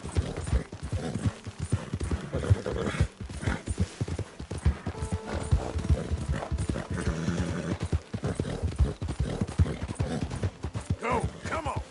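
Horse galloping in a PS4 video game, with rapid, loud hoofbeats pounding steadily throughout, plus occasional neighs, while a player urges the horse on over the action.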